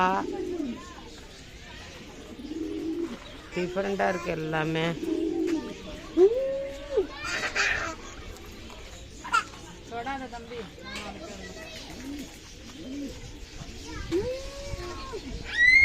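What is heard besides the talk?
pigeons cooing at a bird park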